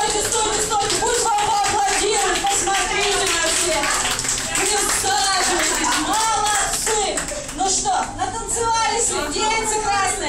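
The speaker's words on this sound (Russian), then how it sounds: "Пусть вам аплодируют" Audience clapping at a Russian stage event, loud and continuous over the whole stretch, with voices and chatter mixed in throughout and a brief dip near the end.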